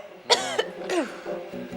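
A person coughs a couple of times up close, sharp bursts followed by a softer throat-clearing sound in a quiet room.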